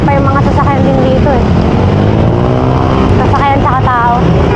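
Cars on Olalia Road pass and rev in a steady, loud road rumble during an uphill bike climb, with a voice talking over the traffic throughout.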